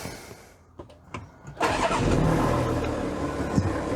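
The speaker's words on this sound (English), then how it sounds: "turn on the engine," A 2013 Volkswagen Touareg engine cranks briefly after a few clicks, then catches and settles into a steady, close idle.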